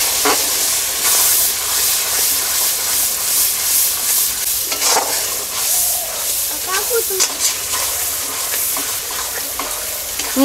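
Chopped tomato, salt and a spice paste beaten with yogurt sizzle loudly in a pan while cooking broiler chicken do-pyaza, a continuous close hiss and steam with stirring scrapes and occasional sharper crackles.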